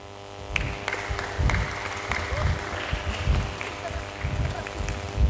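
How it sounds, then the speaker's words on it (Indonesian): An audience at a Santri Day preaching and karaoke competition claps for a speaker who just finished her speech, with scattered, uneven applause heard at a moderate distance. "beri tepuk tangan sekali lagi untuk Mbak Dea"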